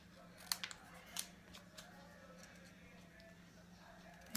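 Scissors snip through a stamped paper strip for a handmade Father's Day card, a few quick crisp cuts close by with quiet room noise between them.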